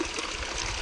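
Water runs steadily through a recirculating trommel sluice, a soft continuous trickling and splashing flow heard close by and alone, with no voices.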